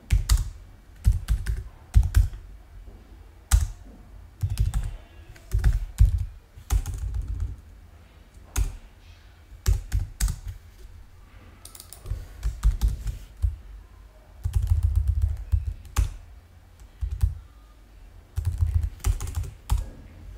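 Someone types a command on a computer keyboard in close, uneven bursts of crisp clicking, broken by short pauses.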